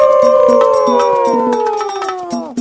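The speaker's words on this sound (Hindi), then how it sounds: "फिर उन लोमड़ियों के झुंड ने नए राजा का अभिवादन करने के लिए एक साथ आवाज लगाना शुरू किया।" A pack of jackals howls together in a long, loud, sustained chorus of gliding, slowly falling wails, with short yips and barks breaking in throughout.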